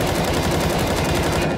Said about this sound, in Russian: Просто стреляю, стреляю, и вот эти пули летят через эту хрень